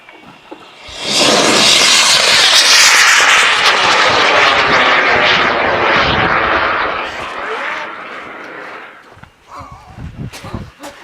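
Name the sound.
KNSB sugar rocket motor launching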